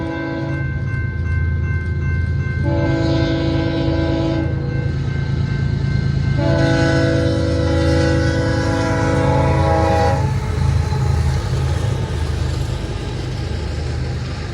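BNSF freight train led by locomotive 6859 rolling past on a Mojave Desert mainline, blowing its K5HL horn in two long blasts over a constant loud roar of wheels and engines.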